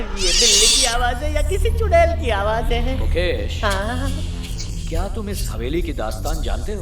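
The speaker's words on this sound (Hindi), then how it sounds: "ये बिल्ली की आवाज है या किसी चुड़ैल की आवाज है?" Drawn-out cat meows rise and fall, mixed in with a person speaking, with the sounds overlapping throughout.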